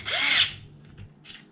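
A power drill whirs briefly and loudly as it loosens screws on the motor mount of a Traxxas X-Maxx RC truck, spinning down after under half a second, followed by faint short bursts.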